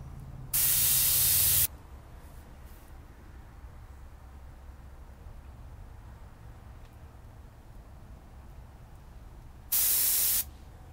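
Two loud bursts of hissing airbrush spray, one lasting about a second near the start and a shorter one near the end, with quiet room noise in between.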